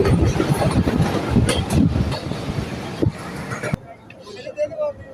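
A Bangladeshi local train running between Kalukhali and Bhatiapara rumbles and clatters loudly as it pulls into a station. The steady clickety-clack and roar cut off abruptly near the end, leaving quieter ambient noise.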